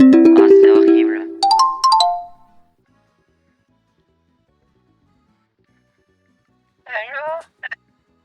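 A WhatsApp call ringtone plays loudly in short melodic phrases, then long silence, then a brief return of the tune.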